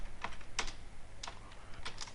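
Keystrokes on a computer keyboard come in a few separate taps and small clusters, close up and fairly quiet, with no voice over them.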